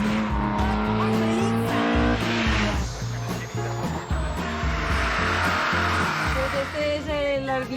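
Autobianchi A112 Abarth rally car racing on a twisting road in the Costa Brava Rally, its engine revving up and down through gear changes with a squeal of tires, loud and close, under a voiceover.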